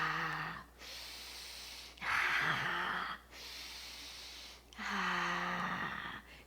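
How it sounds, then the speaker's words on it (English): Three slow, deep breaths taken alone, each a long soft rush of air lasting about a second and a half, separated by short quiet gaps. "take 3 deep breaths"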